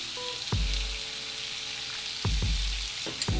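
Mushrooms and shallots frying in a pan for a vegan mushroom pasta, a steady sizzle carrying through with several sharp clatters of utensils against the pan, no voices.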